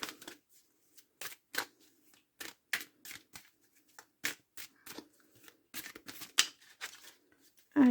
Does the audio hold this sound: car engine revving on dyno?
no